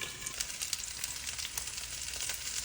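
Ivy gourd (dondakaya) pieces fry in a pan for a masala curry, giving a steady, dense sizzle with light crackle throughout, close and alone with no voices.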